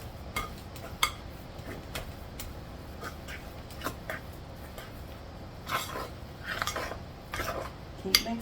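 Pumpkin muffin batter is mixed in a bowl, with soft scraping and stirring sounds and occasional light clinks of a utensil against the bowl, quiet and close with no talk.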